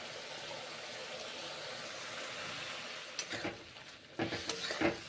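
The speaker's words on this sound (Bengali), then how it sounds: "এখন আবার সামান্য জল দিয়েছি, নেড়ে চেড়ে রান্না করছি।" Ridge gourd and pointed gourd curry cooks in a pan with a soft, steady simmer, then a few scraping stirs and clinks break in near the end, faint and close.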